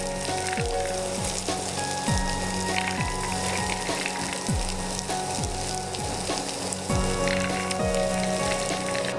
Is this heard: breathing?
no